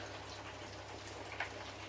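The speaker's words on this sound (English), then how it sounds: "Can you hear that bubbling away?" A pot boiling steadily on the stove while cooking pickled onion pork steaks, a faint continuous bubbling hiss with a low hum beneath and one slightly louder pop.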